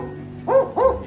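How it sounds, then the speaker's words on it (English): A barking owl gives two short, gruff barks in quick succession, dog-like woofs rising and falling, close and loud against a quiet background. "the male and female barking owls also bark together"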